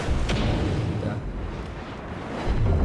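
A battleship shell strikes an enemy citadel in World of Warships, a loud, rumbling boom sustained across the moment with heavy low-end roar and crackle, under someone talking.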